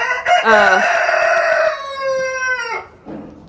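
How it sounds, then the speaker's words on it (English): A rooster near a barn crows loudly and close, one long drawn-out call that rises and trails off, followed by a softer cluck. "that rooster. If I could find something to just keep him quiet"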